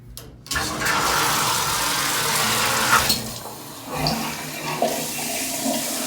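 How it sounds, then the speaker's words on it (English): A shower is switched on and water rushes out in a loud, steady hiss that stays close and continuous, easing slightly partway through, with no talking. "in case you were curious about how I turn on a shower"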